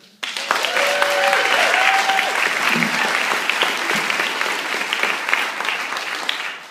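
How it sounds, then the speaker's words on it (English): Loud, sustained applause from an audience greeting the guest of honor on stage at a roast, a thick unbroken clatter that starts abruptly and holds steady, with a brief tonal whistle-like sound early on. "Give him a round of applause."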